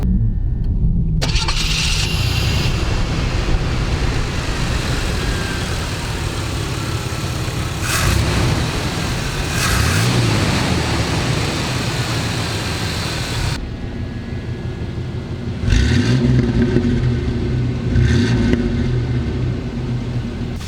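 A 1987 El Camino engine cranks and fires, then idles roughly and revs up in several loud surges, heard up close with no talk over it.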